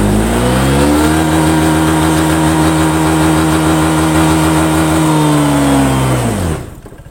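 A Honda PCX 150 scooter engine revs hard with its rear wheel spinning unloaded, a loud, steady high whine that holds for about six seconds, then drops away as the throttle closes.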